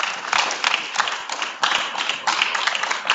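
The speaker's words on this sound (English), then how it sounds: "Please let me clap for them," Applause for invited guests at a university Entrepreneurship Week event: a dense crowd clapping steadily for about three seconds, with a brief dip midway before the clapping swells again.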